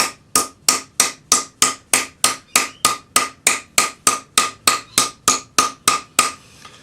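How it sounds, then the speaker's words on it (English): A metal cuff is hammered over a depression in a block, about twenty sharp, evenly spaced ringing strikes in a steady rhythm, loud and close with no talking. "you're just going to hammer a line right down the middle"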